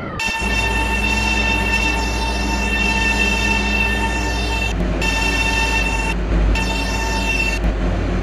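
A subway train runs steadily throughout, with a constant low rumble, sustained tonal whine and a brief squeal of wheels near the end, close and loud with no speech.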